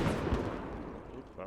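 A frag grenade detonates in a squad-based shooter game during a castle defence, British defenders against Russian attackers: one dull, booming blast early on within a rumbling backdrop of battle noise, followed by a brief voice near the end.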